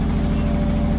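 A Candy SmartTouch washing machine spinning badly unbalanced on its final spin, a loud, steady, low droning rumble with a rapid regular throb throughout.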